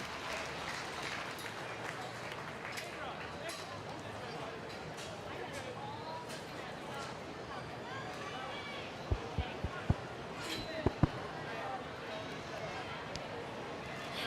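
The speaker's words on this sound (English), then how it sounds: "give them a nice round of applause" Audience applause fills a show ring at a 4-H market swine show, a steady far-off patter of clapping mixed with crowd murmur and a few sharp knocks near the end, lasting throughout.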